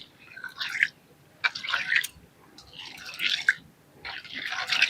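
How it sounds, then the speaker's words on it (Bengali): Sago pearls being squeezed and rinsed by hand in a large bowl of water, giving close, intermittent wet splashes and sloshing bursts in an uneven rhythm with short pauses between. "এবার সাবুটাকে বেশ ভালো করে ধুয়ে নেব। এইভাবে কিন্তু চটকে চটকে ধুয়ে নিতে হবে।"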